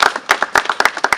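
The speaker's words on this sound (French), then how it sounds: "Applaudissons." An audience at a meeting in Lubumbashi applauds, with quick, close, uneven hand claps in a short burst.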